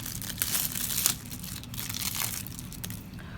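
Close plastic packets from a pack of balloons crinkling and rustling continuously, with a few sharper crackles near the start.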